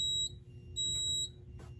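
A smoke detector's fire alarm, set off by fog from a fog machine, sounds two loud, high piercing beeps with a gap between them over a low steady hum.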